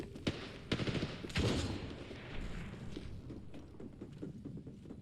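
Gunfire in the video game Apex Legends, with bursts of rapid shots and heavy thumps early on, then scattered lighter firing and impacts at a moderate distance.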